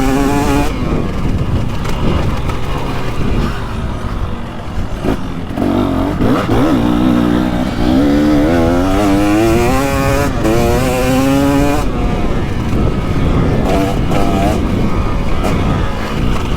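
A 2023 KTM 300XC two-stroke dirt bike engine revs hard on a trail, its pitch rising and falling as the throttle opens and closes, loud and close throughout with clattering from the ride.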